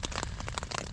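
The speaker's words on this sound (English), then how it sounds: "Started hailing a little bit." Hail rattles on a camping tent during a big thunderstorm, a dense, loud, continuous patter of sharp impacts with no talking.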